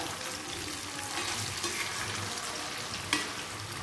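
Chicken 65 fries in a hot pan with a constant bright, crackling sizzle, an unbroken hiss of oil with one sharper pop near the end and no talking.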